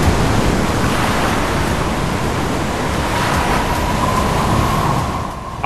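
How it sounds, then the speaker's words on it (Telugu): Storm-driven waves crash continuously on Gokarna beach in Karnataka, a loud, steady roar of surf and wind with no breaks, fading slightly at the very end. "తుఫాను మాదిరిగా అలలు ఎగిసి ఎగిసి పడుతున్నాయి"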